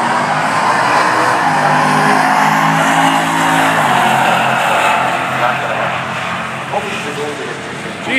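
A drag racing car accelerates down the strip at a Mopar Nationals meet at Englishtown raceway, a loud rising engine roar that sweeps upward in pitch and then fades with distance, crowd noise behind it.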